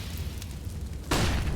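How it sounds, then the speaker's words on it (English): A grenade detonates in the video game Counter-Strike during a competitive esports match, a sudden low booming blast that hits near the end over a busy background of game noise. "definitely not going to be expecting Berthu getting fast chip damage from that nade from Geezy"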